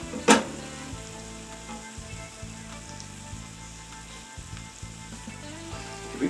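Flour browns in a hot pan for chipped beef gravy, giving a steady close sizzle and crackle with a few sharp scraping stirs, no talk.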